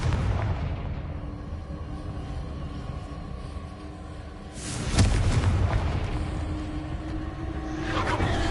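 Fire spell explosion in the Hogwarts Legacy video game: a sudden loud boom bursting out of steady rumbling game ambience midway, fading into a continued low roar.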